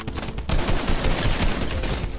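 A drum gun firing in Fortnite, a loud rapid automatic volley of close shots in a dense continuous rattle lasting a couple of seconds.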